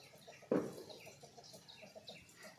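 A single loud cluck from a chicken, followed by quieter bird chatter and faint farmyard noise in the background.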